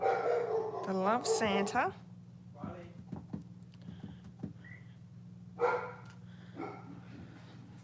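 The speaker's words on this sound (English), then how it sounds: "So sorry about the barking." Several dogs bark and yip at a local man arriving by car to pick up papers, with sharp loud bursts early, then scattered barks and whimpers, all over a steady low hum, with a person talking briefly.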